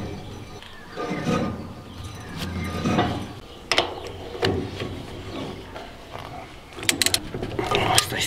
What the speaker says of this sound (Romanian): trebuie să iei fiecare șurub în parte să-l strângi